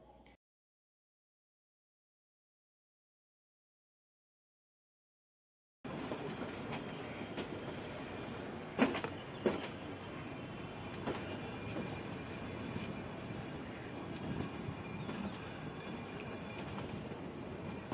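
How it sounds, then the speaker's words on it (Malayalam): Nilgiri mountain train near Ooty creeping slowly along a slippery track, a low steady rumble of wheels and carriages with a couple of sharp clanks and faint squeals, following a few seconds of silence. "മറിയാൻ സാധ്യത ഉള്ളത് കൊണ്ട് തന്നെയാകണം വളരെ പതുക്കെ ഇവിടെ ട്രെയിൻ നീങ്ങിയത്"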